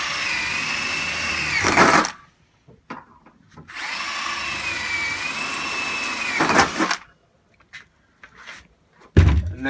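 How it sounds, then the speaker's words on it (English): A power drill whines in two bursts of a couple of seconds each, drilling a small 4mm pilot hole, with short clatters and silence between them, close by. "We drill a pilot hole, a small 4mm hole is adequate."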